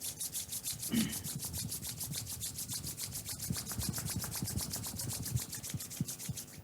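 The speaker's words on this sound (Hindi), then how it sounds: "एक बार फिर से हाथों को रब करेंगे।" Palms of the hands rubbed briskly together during a meditation exercise, a close, steady rhythmic swishing friction that continues throughout at moderate volume.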